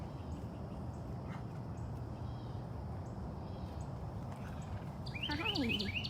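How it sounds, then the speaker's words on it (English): Noisy indoor birds chirping against a quiet background hiss. Scattered faint tweets give way to a quick burst of bright, rapid chirps near the end. "Back here with all the noisy birds."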